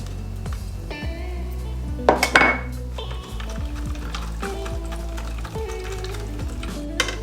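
A spoon clinks and scrapes in a bowl while sauce ingredients with brown sugar are mixed for beef and broccoli, steady stirring with a few sharper knocks against the bowl, fairly close.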